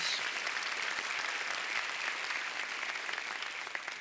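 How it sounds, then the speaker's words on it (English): Steady, dense applause from a large audience at a university autumn graduation ceremony in South Africa, a continuous round of clapping that carries through the whole stretch with little other sound. "Can I request a round of applause for that"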